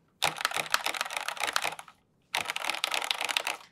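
Rapid typing on a cheap tenkeyless mechanical keyboard with a hollow plastic case, two close bursts of quick clacking keystrokes separated by a short pause, with no talk.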